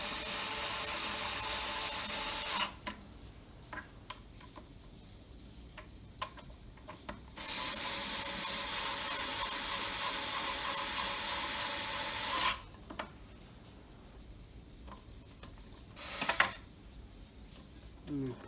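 A long screw driven into wood during a Marvel Superheroes Countercade arcade cabinet screen swap, in three sustained bursts of power-driver whirring and grinding separated by quieter handling clicks and rattles.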